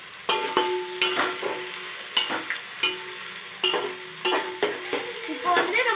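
Chili powder and spices fry and are stirred in a pan for mutton mandi biryani, giving a steady close sizzle broken by repeated scraping strokes of a spoon against the pan.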